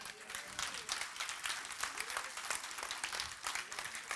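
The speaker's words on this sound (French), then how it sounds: "donnez une offrande d'acclamation à Jésus" A church congregation gives an offering of acclamation to Jesus, a steady wash of faint, distant clapping and crowd noise that continues without a break.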